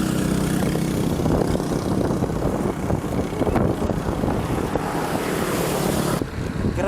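Headwind roaring against cyclists riding on a road from North Caloocan to Pampanga, a loud, steady buffeting rush across the microphone that eases briefly near the end.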